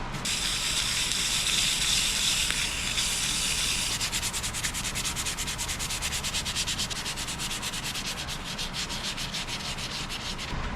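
Steady, loud abrasive sanding against a red mallee burl bowl spinning on a lathe, a continuous gritty hiss with fast rhythmic pulses, close up with no talking.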